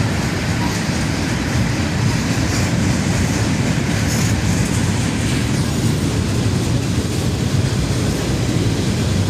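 A CSX freight train with a long string of gondolas rolls past, a loud steady rumble of wheels and cars with faint clickety-clack and squeal throughout.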